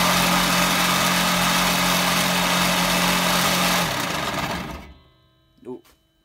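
A belt sander runs loudly and steadily for about four seconds, then switches off and winds down to near silence, followed by a brief faint knock.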